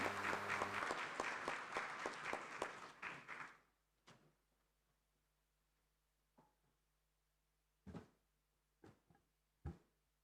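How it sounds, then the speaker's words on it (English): Applause from a conference audience at an African inter-parliamentary gathering: dense clapping for about three and a half seconds that tapers off, followed by a few scattered thumps and faint knocks in a quiet room. "Please, another round of applause for Dr. David Odinga."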